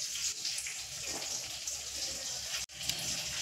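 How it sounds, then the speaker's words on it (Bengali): Boiled drumstick flowers are squeezed by hand to press out the water, a steady close watery trickle and splash with a brief break near the end. "দেখুন, এইভাবে জলগুলো চেপে বার করে নেব।"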